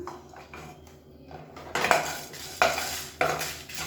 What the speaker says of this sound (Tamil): எண்ணெய் விட்டு நல்லா பரட்டி விட்டுருங்க.